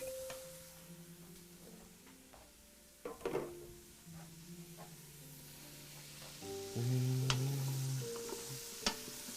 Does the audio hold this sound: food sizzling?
yes